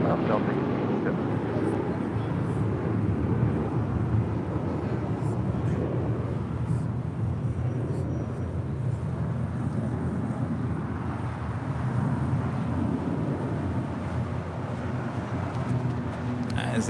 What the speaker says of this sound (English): A350-900 coming in from Munich, next heavy arrival on 24 right there on the north side